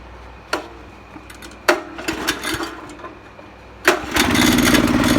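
A Honda walk-behind ridging tractor engine gives a few sharp pull-start cranks, then catches and settles into a steady, smooth close-up running hum.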